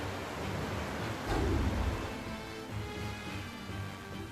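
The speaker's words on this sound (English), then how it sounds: "Oh, it's raining." Steady rain falls in the video game Tales of Berseria, a dense, even hiss with a brief swell partway through and no voices.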